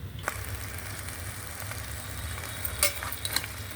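Chopped onions frying in a pan until they change colour, a steady soft sizzle with occasional light scrapes and clinks of a utensil stirring, fairly quiet and close.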